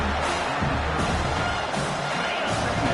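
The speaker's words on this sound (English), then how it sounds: "this home crowd is fired up and ready to make a difference today" A home crowd roars at a college football video game, a dense, steady wash of cheering and whooping that holds loud and unbroken throughout.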